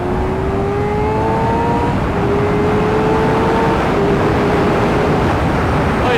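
A Suzuki GSX-R motorcycle accelerates while overtaking, its engine a steady, loud drone with a rising tone sliding upward, under heavy wind rush.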